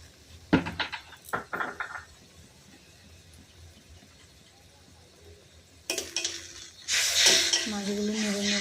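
Hilsa fish being stirred in a pot for tel jhol, with a few clinks and scrapes of a utensil at first, a quiet lull, then louder clattering and a gush of liquid near the end, close by.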